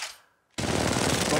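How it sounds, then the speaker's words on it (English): Gunfire in Apex Legends Mobile, a sudden burst of loud, rapid automatic shots that starts after a brief near-silent gap and continues steadily to the end. "Opening fire."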